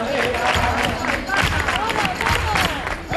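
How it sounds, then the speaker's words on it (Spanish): An audience claps along to sevillanas at an international sevillanas congress, a dense, steady wash of rhythmic hand claps mixed with crowd noise and music, loud and close throughout. "el público que acompañe con esas palmas"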